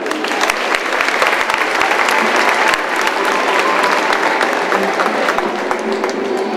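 Loud, sustained applause from a large audience at an equestrian event, steady clapping filling the space throughout.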